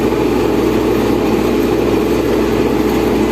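Steady, loud engine drone of an MTZ 892.2 tractor ploughing a soybean field with a LEMKEN Opal 090 plough, running evenly with constant low rumble and no speech.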